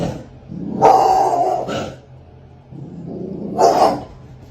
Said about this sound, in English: What could the dog be seeing, and what could be the reason of its growling?